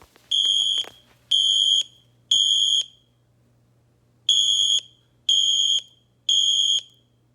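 Siemens fire alarm tones, comparing the newer ACEND and the older UMMT, play from a tablet speaker: two loud groups of three evenly spaced, steady electronic beeps with a short pause between the groups, and no voices.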